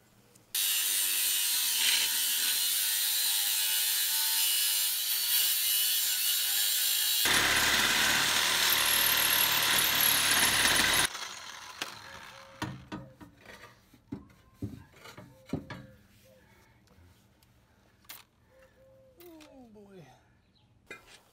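Cutting through a car's exhaust pipe and hanger with a power tool while fitting an aftermarket muffler on an Acura Integra: a long steady loud grinding rasp for about ten seconds, then scattered clanks and scraping as the cut pipe is handled.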